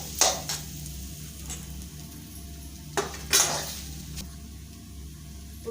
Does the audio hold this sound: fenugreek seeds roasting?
yes